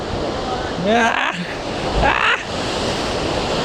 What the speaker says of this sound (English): the waves are so powerful